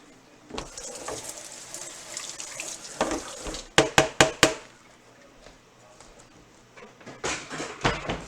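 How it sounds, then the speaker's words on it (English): Something gets rinsed under a running kitchen tap, with gushing water in bursts and a few sharp knocks against the sink, close by with a little background voice. "I'm going to go ahead and rinse this off."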